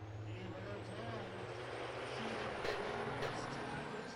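Big rig racing trucks roaring hard around South Sound Speedway, several running door to door, with a steady loud engine drone and deep low rumble throughout, a commentator talking over it.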